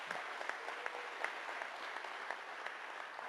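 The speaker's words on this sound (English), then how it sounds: "Let's give them a nice round of applause," An audience at a community hearing applauding the volunteers, a sustained round of clapping with individual sharp claps standing out, moderately loud and steady throughout.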